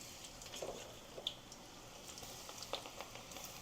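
Ragi pakoda batter crumbles sprinkled into hot oil fry with a soft, steady bubbling hiss and scattered faint pops, quiet and close with no talk.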